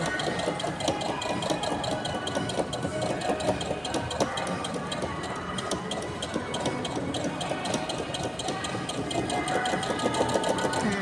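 A Brother A80 electric sewing machine stitches a rolled hem with its rolled-hem foot, giving a steady, rapid mechanical whir and clatter that runs unbroken throughout.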